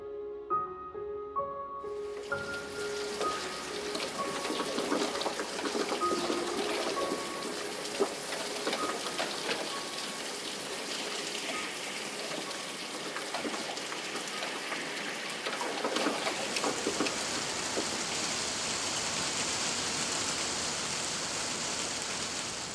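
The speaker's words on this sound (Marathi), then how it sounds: "पावसाच्या आवाजानं मला जाग आली" After a brief musical opening, monsoon rain patters on a glass pane of an old village house in the Konkan, a continuous soft drumming of drops that holds without pause.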